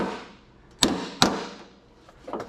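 Two sharp metallic hammer taps on a lower door hinge pin of an 1982–1992 Camaro, close and distinct in a quiet space, with a softer knock trailing at the end.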